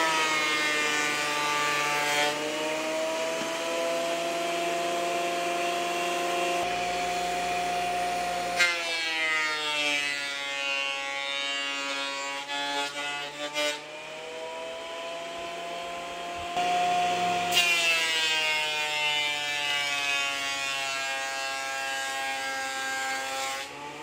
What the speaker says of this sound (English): I'm gonna run this as well as the cedar and the oak through the planer